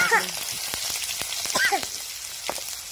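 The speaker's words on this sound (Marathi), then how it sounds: "मोहरी चांगली तडतडून झाली का मग जिरे टाकावं लागते, मग जिरे टाकणार आहे आम्ही" Mustard seeds and cumin seeds sizzle and crackle in hot oil in a pan for Marathi-style upma (upit), with sharp popping bursts over a steady frying hiss; a voice speaks briefly.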